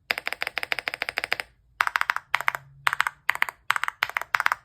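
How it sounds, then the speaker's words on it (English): Crisp keystrokes on a LEOBOG Hi75 mechanical keyboard fitted with stabilizers, first a fast run of even clicks, then separate bursts of several keys with short pauses between them. The typing is close and clear, with no talking over it. "they have really nice stabilizers on this keyboard,"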